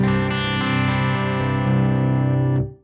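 An electric guitar through a 100W custom tube amp with negative feedback turned all the way down rings out in one sustained, saturated chord that holds for over two seconds before cutting off.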